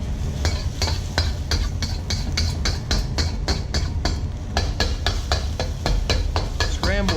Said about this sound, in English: we're going to scramble that with the garlic